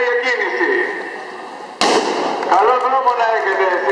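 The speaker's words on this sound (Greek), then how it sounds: "Η δρομή θα περιμένει και το μπαμ της εκκίνησης." A single sharp starting bang fires about halfway through, signalling the start of a road running race with short and junior runs, cutting through the murmur of a crowd and voices before and after.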